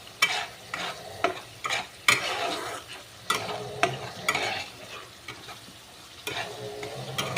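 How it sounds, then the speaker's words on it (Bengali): Spice paste sautés in oil for a katla fish curry with potato and cauliflower, a soft, steady sizzle broken by repeated scraping stirs of a spoon in the pan, close and without voices. "মশলাটা কষানো হচ্ছে, দেখো তেল ছেড়ে দিয়েছে।"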